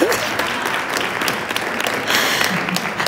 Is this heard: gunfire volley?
no